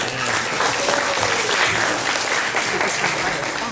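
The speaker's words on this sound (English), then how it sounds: "How about a round of applause for Oprah?" An outdoor audience at a parrot show at an alligator farm applauds, a steady wash of clapping from a modest crowd, with a faint voice underneath.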